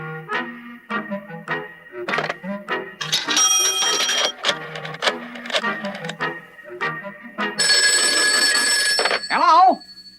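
Cartoon telephone ringing in bursts of bright metallic bell rings, interleaved with short clunks and thuds, ending in a warbling twang; loud and close with no talk.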